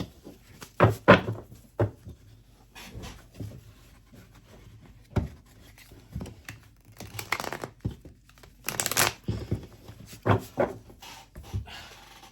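Tarot cards shuffled by hand in an indoor reading, a run of dry papery riffles, crinkles and soft taps coming in irregular bursts, fairly close and quiet with no talking.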